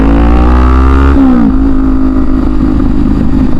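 A Kawasaki Ninja 400 sport motorcycle with non-stock exhaust revs loudly up close, pitch climbing then dropping into a rough, steady idle rumble.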